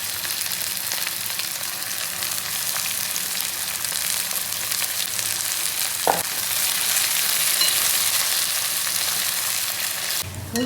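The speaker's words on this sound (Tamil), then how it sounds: "இப்போ இந்த ஆனியன் எல்லாமே ஃப்ரை பண்ணி எடுத்துருவோம்" Onions deep-frying in oil produce a loud, continuous bubbling hiss that stays close and steady, with a brief knock midway and a clatter at the end.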